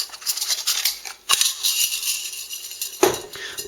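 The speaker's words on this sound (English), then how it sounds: "just go ahead and take the magazine tube and the receiver, one in each hand firmly, and just simply unscrew the magazine tube" A Mossberg 500 Cruiser shotgun's metal magazine tube is unscrewed from the receiver by hand, making a series of close, light metallic scrapes and ticks with a couple of sharper clinks.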